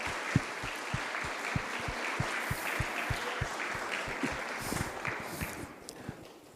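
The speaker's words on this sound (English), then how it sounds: "Hey, clap for him again." Applause from a small group at an outdoor school barbecue, a brief scattered clapping that rises slightly and then fades out over several seconds.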